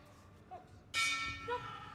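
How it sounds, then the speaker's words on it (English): A boxing ring bell ends a round at a youth world championship bout, a single bright metallic clang ringing out and decaying over a quiet arena background. "Bell goes at the end of the round."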